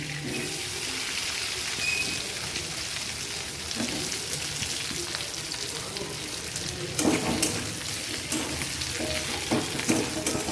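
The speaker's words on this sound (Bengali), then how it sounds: "চিংড়ি মাছের তেলটার মধ্যে আমি এখন আলুটা ভেজে নিচ্ছি" Potatoes fry in leftover prawn oil in a pan, a dense, steady sizzle with occasional scrapes and clinks of stirring, alone and fairly close.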